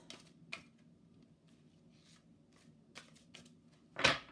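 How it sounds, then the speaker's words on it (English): Large purple tarot cards are shuffled by hand in soft, scattered riffles and taps, with one louder burst of card noise near the end, all close and fairly quiet. "These cards here, these big purple cards, are too heavy for me to shovel and shuffle in the traditional way."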